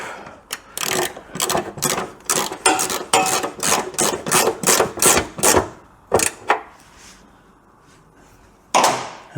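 Quick rhythmic ratchet clicks from tightening a bolt on a modified Citroen Saxo, a run of close, sharp strokes that slows to a few last clicks, then one final click after a pause.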